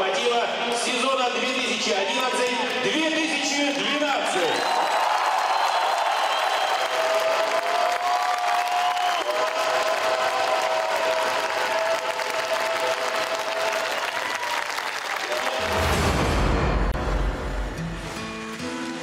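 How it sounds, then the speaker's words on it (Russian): A large crowd applauds the Lokomotiv team at a memorial event, loud sustained clapping filling a big hall and swelling into a roar near the end. "я прошу приветствовать оглушительными аплодисментами боевой состав «Локомотива» сезона"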